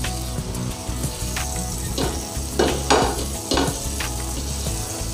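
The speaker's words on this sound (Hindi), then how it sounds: "और पाव को मस्त इस पर फ्राई करेंगे बटर पे।" Pav buns fry in butter on a hot tawa, giving a steady close sizzle with brief scraping and stirring bursts as they are moved around the griddle.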